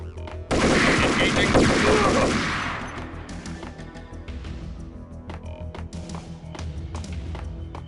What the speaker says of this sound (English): This gun is cool, but it runs out of ammo pretty fast.